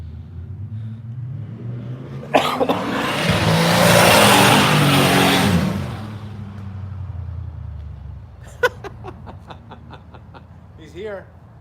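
Roughly 700 wheel horsepower 8f8 car engine on a dyno, rumbling at idle before surging into a loud sustained rev and dropping back, with people talking and reacting throughout.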